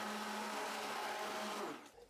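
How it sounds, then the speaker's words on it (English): Hand blender whirring steadily through tomato sauce with salt, sugar, oregano and cayenne, a continuous high motor whine with a churning liquid edge, close and fairly quiet, cutting off abruptly at the end. "Blend everything with a hand blender until smooth."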